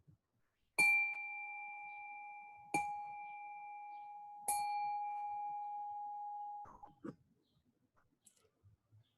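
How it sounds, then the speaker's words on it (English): A gong at a quiet meditation gathering is struck three times at even intervals, each clear blow ringing out with a long sustained tone before fading into near silence. "let me see if we can get our gong."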